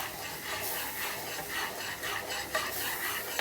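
Milk being stirred into a creamy mixture for a homemade snack, a steady scraping and swishing stir running continuously with light clinks of the utensil against the pan, close and alone.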